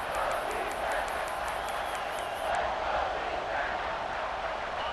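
A big stadium crowd at a college football game between Sacramento State and Auburn roars in a steady, distant wash of cheering. A whistle-like tone repeats faintly above it.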